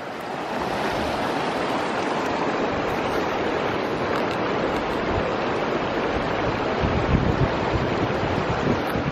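Rushing river water in North Idaho, a steady broadband wash that stays loud and unbroken throughout with wind buffeting the microphone.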